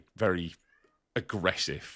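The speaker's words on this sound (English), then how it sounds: "I don't know if you can hear my cat, by the way, absolutely going fucking nuts in the background" A cat meows loudly and agitatedly in the background in two bursts while someone talks over it.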